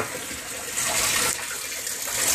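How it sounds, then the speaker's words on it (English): Water from a 300 gallon per hour Harbor Freight pump overflowing and running back down into the pump reservoir of an aquarium setup, a steady close splashing rush that swells slightly partway through, with no talking. "As soon as water's added from here, it overflows here"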